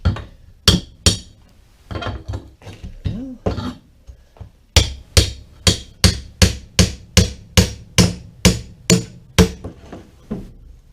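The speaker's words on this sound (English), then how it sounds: "Let me grab my hammer." Repeated hammer blows ring on a metal school bus wheelchair tie-down bar, a few scattered strikes at first, then a long steady run of sharp, loud clanks in even rhythm.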